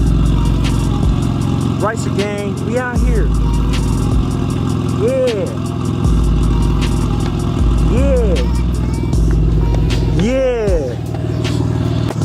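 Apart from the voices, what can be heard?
BMW E46 engine revving with headers exhaust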